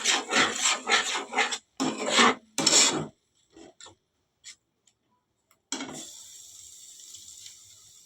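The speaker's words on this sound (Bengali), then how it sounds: "এবার এটাকে আমি ভালো করে নাড়াচাড়া করে মশলাটা এখন কষাতে হবে।" Chana masala spice paste of onion, chilli and tomato being stirred and fried in a pan: several bursts of scraping and rasping, then a short pause and a steady hiss of sizzling.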